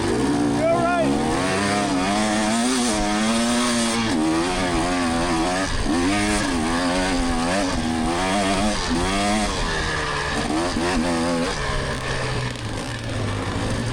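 A 250cc dirt bike engine screams up a hill during a GNCC off-road race, loud and close with rising, wavering revs and repeated throttle surges and shifts.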